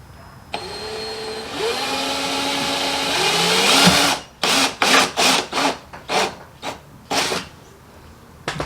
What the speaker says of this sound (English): We're going to go ahead and drill our very, very bottom one.